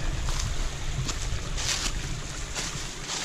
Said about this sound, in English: Little cascade.